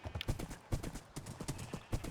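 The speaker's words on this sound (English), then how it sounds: "this is a really fast horse, but it can't jump at all" A fast horse in a Minecraft-style video game trots along with quick, regular clip-clop hoofbeats, close and crisp, with no talking over them.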